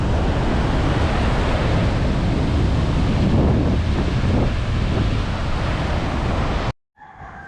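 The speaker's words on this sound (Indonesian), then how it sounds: "Anginnya kencang sekali." Strong wind buffets the microphone on a beach as waves wash ashore, a loud continuous roar of wind and surf that cuts off abruptly near the end.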